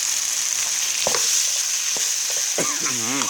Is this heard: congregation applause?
no